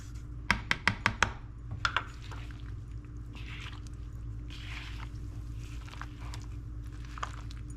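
A gloved hand tossing floured chicken pieces in a bowl for orange chicken: a quick burst of sharp squishy slaps near the start, a couple more, then soft rustling and quieter stirring, close and alone.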